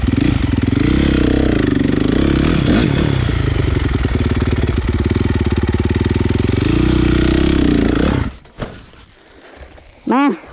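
A Honda CRF 450 dirt bike with an HGS exhaust runs loud and close for about eight seconds, its engine rising and falling in pitch with revs. The engine then cuts off, and a few faint sounds follow.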